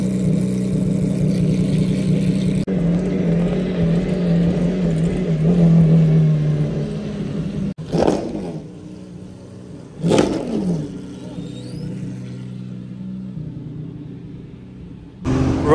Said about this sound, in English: MC12 Corsa on the road